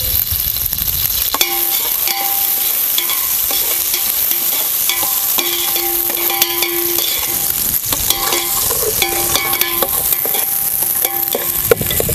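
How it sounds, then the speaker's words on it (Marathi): Onion sautéing in a pan with cumin for mango rice, a loud constant sizzle with frequent clinks and scrapes of a spoon against the pan, no voices. "कांदा आपल्याला थोडंसं अगोदर परतून घ्यायचं"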